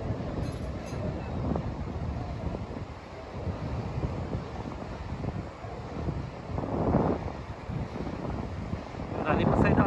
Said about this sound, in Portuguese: Ventando muito aqui.